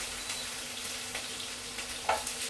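Onions frying in a pan make a soft, steady sizzle with a few light clicks of a utensil, heard close and fairly quiet.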